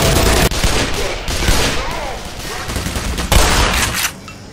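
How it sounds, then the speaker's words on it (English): Shotgun blasts in the video game Black Mesa, several loud broadband bursts in quick succession with dense overlapping reports and no speech. "I love to hear the sound of a beautiful shotgun as I blow the heads off my many foes"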